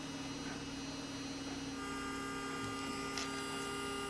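Steady, even whine of an electric nail file (e-file) running continuously at constant speed, a close mechanical hum with no pauses or talking.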